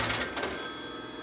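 The bell of an old hand-crank telephone rings in a bright metallic burst at close range, then fades into a lingering, decaying ring.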